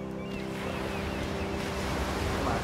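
Water rushing through a level of the video game Unravel, a constant, full surging roar like waves with a faint wind-like hiss and no pauses.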